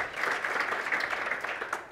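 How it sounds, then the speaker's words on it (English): Audience applause for the panelists at a discussion event on South Africa's circular economy, a dense, even wash of many hands clapping together at middling loudness, with no voices. "So a warm round of applause, everyone, to our panelists today."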